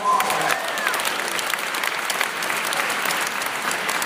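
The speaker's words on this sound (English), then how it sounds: "Give us a big round of applause for that." An audience at a university new student day gives a sustained round of applause, dense and even clapping from a large crowd that holds steady throughout.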